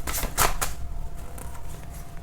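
Tarot cards being handled and laid out, giving a few quick, close papery flicks and taps near the start and softer rustling after, with no one speaking.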